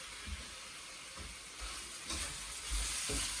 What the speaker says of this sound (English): So I have a cup of chopped tomato here. So I'm adding that to form the base.